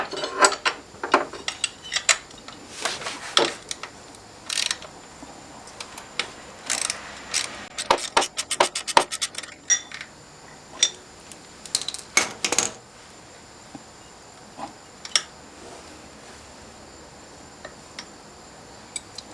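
Metallic clicks, ratcheting and tool clinks come from work removing the shift linkage on a Harley-Davidson motorcycle, scattered close taps and bursts of ratchet clicking with quiet gaps between them.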